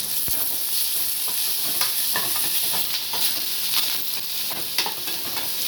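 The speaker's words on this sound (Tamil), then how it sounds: "கருவேப்பிலை கொஞ்சம் போட்டுக்கலாம்" Curry leaves sizzle in hot oil for tomato chutney, a loud, dense crackling hiss broken by frequent small pops and spatters. Stirring noises run close throughout, and there is no talk.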